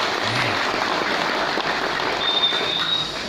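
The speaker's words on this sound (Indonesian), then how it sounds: "Tepuk tangan umumnya." A crowd gathered at a jaga baya inauguration ceremony in Dulang Mangap, Karangasem, applauds steadily throughout, a dense, even wash of clapping from many hands.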